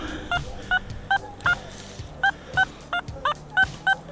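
A metal detector sounds a series of short, stable, fairly high beeping tones over buried metal in a field, about a dozen regular chirps in quick succession with faint handling noise between them.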